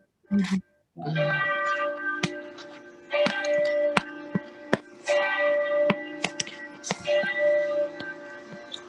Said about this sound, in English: You're hearing those bells.